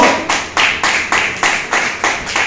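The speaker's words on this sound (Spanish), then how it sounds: "Den un fuerte aplauso al Señor." A church congregation clapping strongly in praise: loud, rhythmic claps in unison, about three per second, each with a ringing room tail, holding a steady beat without voices.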